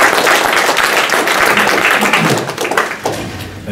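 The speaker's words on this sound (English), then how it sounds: "Please give Nick a round of applause." Audience at a Bay Area search meetup applauds a speaker, with dense, loud clapping close by that holds steady, then thins and fades over a few seconds.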